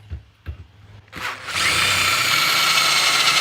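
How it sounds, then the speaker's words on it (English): A power drill fitted with a larger bit widens screw holes in a door, starting with a few short taps and then running loud and steady, close up, with no talk. "So I'm gonna grab a little bit larger drill bit."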